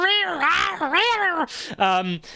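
A cat cries out during a fight in drawn-out, wavering yowls that rise and fall, followed by a sharper, higher wail, loud and close.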